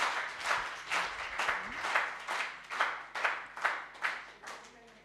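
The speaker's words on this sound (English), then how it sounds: "A round of applause for them as they come here." Audience at a celebration summit clapping for presenters walking up, a small group's rhythmic claps pulsing at a steady beat, moderately near, with some talk mixed in.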